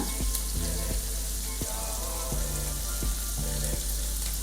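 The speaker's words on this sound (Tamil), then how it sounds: "வெங்காயம் நல்லா வதங்கட்டும் வெயிட் பண்ணுவோம்" Onions sautéing in a pan while cooking arai keerai poriyal, a steady close sizzle and crackle of frying with intermittent clinks of a spatula against the pan, no talking.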